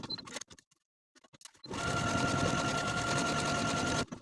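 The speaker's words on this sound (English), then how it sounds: "I'm going to take this to my machine and sew each of my 12 buttonholes" A sewing machine stitching buttonholes on a collared dress, starting after a few scattered handling clicks and then running as a steady, close, rapid mechanical whir for a couple of seconds before stopping abruptly.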